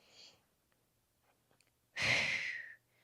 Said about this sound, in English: Inhale, big exhale.